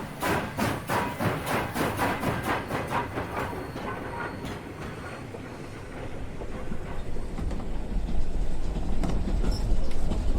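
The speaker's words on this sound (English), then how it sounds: "This train is continuing on to Leadville with a 6:15 arrival." A passenger train rolls along the rails with a rhythmic clickety-clack of wheels over joints, giving way to a steady, growing rumble.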